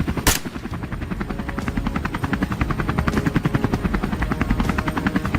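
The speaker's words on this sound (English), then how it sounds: "Our helicopter circles high above" A helicopter circles overhead during a wild boar hunt, its rotor blades beating in a rapid, steady chop that stays loud and constant, with one sharp crack near the start.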